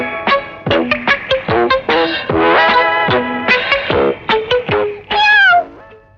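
Kitten meowing repeatedly and loudly, a rapid series of short close mews with a few longer drawn-out cries, sounding slightly processed with some echo, no talking.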